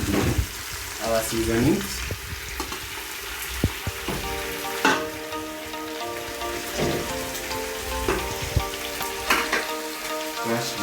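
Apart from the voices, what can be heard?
tomatoes sizzling as they are added to the pan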